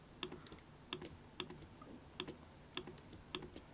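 Computer keyboard keys pressed repeatedly, Ctrl or Command, while switching tools in vector artwork of calligraphy lettering; six crisp, evenly spaced clicks at a steady rhythm, close and fairly quiet, with no talk.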